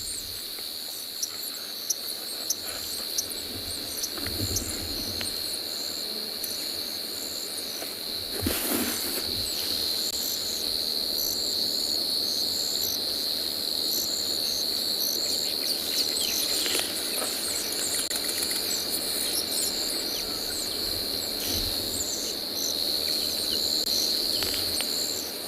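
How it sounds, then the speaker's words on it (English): Crickets and cicadas calling at sunset beside a small pan with a leadwood tree near Twin Dams on the Tswalu reserve, a steady high insect drone lasting throughout with a few faint bird calls behind it. "allow you to hear the crickets, the cicadas"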